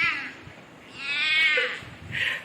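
A person imitates a cat meowing with their voice, giving a few drawn-out, rising mews in a row, close and moderately loud, over a quiet background.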